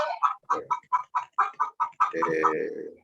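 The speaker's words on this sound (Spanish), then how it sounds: "hay que silenciar el pollito" A chicken clucks in a quick rhythmic series of about ten short clucks, then breaks into a longer drawn-out cackle, fairly close and clear with no speech over it.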